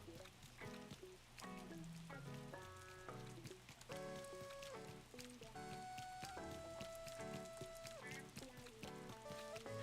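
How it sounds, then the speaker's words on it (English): Pouring rain in the Animal Crossing New Horizons game, a steady patter running under prominent melodic background music throughout. "Nobody's outside because it's literally pouring rain."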